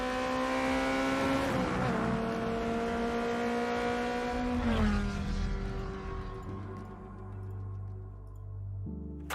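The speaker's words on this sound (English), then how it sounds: "Every tire squeal, every engine, lap after lap." Race car engines from the Forza Motorsport racing game wind up and shift through gears with a loud, continuous drone and sliding pitch, with tire noise mixed in, before cutting to a low rumble near the end.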